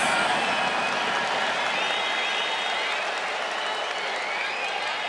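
A stadium crowd at a Hanshin–Giants baseball game keeps up a thick, continuous roar of applause and cheering, with whistles and shouts threading through the wash of sound.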